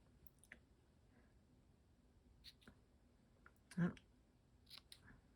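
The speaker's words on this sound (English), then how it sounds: "let me cut my ends." Scissors snip the ribbon ends on a handmade lavender basket card, a few quiet, brief cuts scattered through a soft, low-level room, with one louder snip near the middle.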